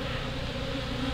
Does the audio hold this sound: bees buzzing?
yes